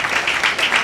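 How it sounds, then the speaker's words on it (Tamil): Applause from a college audience at a Loyola College Chennai pattimandram debate, a short dense burst of many hands clapping that swells in gentle waves. "கைத்தட்டு பலமா இருக்கு."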